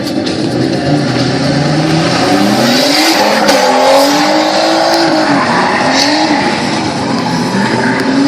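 A drift car skids through a corner at a drifting event at Archerfield, its tires squealing in long wavering howls over a loud, continuous engine roar, close and sustained throughout.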